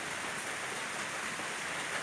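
Heavy rain at the start of the rainy season over a flooded village, a constant dense hiss of falling water, even and unbroken, with no voices.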